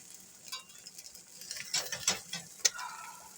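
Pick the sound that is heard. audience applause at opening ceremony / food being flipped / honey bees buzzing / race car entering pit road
food being flipped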